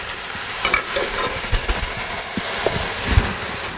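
Potatoes with turmeric sizzle and fry loudly in a pan while being stirred, with continuous hissing broken by scraping and tapping from the spoon moving the pieces around.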